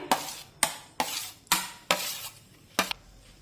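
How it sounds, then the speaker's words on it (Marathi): Mashed ripe banana pulp is scraped and pressed into flour in a pan over low flame: six distinct wet, thick stirring strokes at a steady rhythm, close and fairly quiet, with no talking. "आता यामध्ये हा जो आपण केळीचा लगदा तयार करून घेतला होता ना तो या पिठामध्ये टाकूया"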